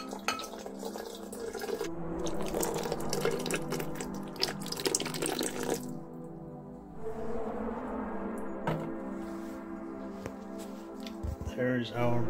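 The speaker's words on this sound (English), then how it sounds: "we can start to add the hydrochloric acid" Hydrochloric acid poured into a sodium benzoate solution to precipitate benzoic acid, with steady pouring and trickling liquid in glassware and occasional glassy clinks, while a person talks over it.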